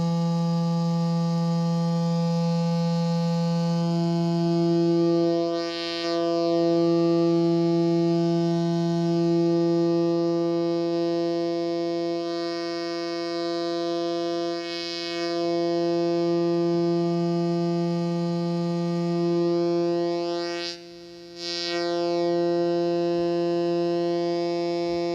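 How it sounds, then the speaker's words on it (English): A sine-wave tone from a homemade voltage-controlled oscillator circuit hums steadily for about 25 seconds with a buzzy edge. It dips briefly in level a few times and plays alone. "the last one is the sine wave"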